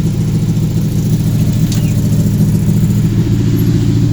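A 1971 Ford F-100 truck engine idles loudly close by with a steady, even rumble that continues without a break.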